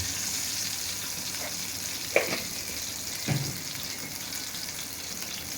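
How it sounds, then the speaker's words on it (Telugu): Mustard seeds hit hot oil in a pan already holding peanuts, for a peanut chutney, giving a steady broad sizzle throughout with two brief louder crackles and pops from close by. "నూనె కాగింది కదా ఒక స్పూన్ ఆవాలు ఇంత వేసుకున్నాం"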